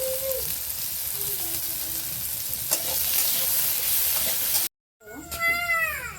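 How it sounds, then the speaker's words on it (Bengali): Potatoes sizzle steadily in a kadai of hot mustard oil with salt and turmeric, a loud, dense crackle close by. It cuts out briefly near the end, then a high, wavering cat-like call rises over the frying. "দেখুন আমার আলুটা ভাজা হয়ে গেছে, হালকা করে আমি ভেজে নিয়েছি"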